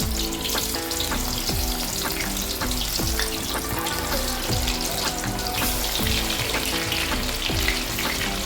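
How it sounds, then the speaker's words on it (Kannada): Gobi (cauliflower) for Gobi Manchurian deep frying in hot oil, a steady dense sizzle with regular sharp clinks of a ladle stirring through it, close and continuous, no voices. "ಎಣ್ಣೆ ಹಾಕಿ ಡೀಪ್ ಫ್ರೈ ಮಾಡೋದು."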